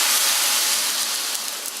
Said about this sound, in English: I'm going to put about a half a Naragansett lager now, add to the sauce